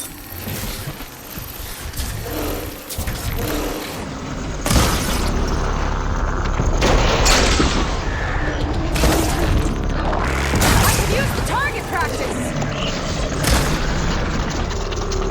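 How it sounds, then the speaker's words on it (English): Glowing crystals detonating in the video game Horizon Forbidden West, a run of loud booming blasts that stack up densely over a dense, busy game soundscape with no speech. "See those glowing crystals? Takes one hit to detonate."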